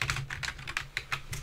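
Rapid keystrokes on a computer keyboard as a command is typed into the Anaconda prompt, about eight quick, close taps in an uneven rhythm with no voices.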